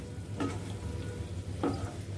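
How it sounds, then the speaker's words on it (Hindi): Paneer pieces are gently stirred into a masala in a pan, giving two soft spoon scrapes over a low, steady sizzle, close and fairly quiet, with no talk. "अब हम इसके अंदर डाल रहे हैं पनीर के पीसेस। जैसा कि मैंने कहा, ये 100 ग्राम पनीर है। इसको आराम से मिक्स करेंगे"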